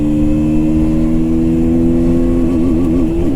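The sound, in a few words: KTM Duke 160 motorcycle accelerating through first gear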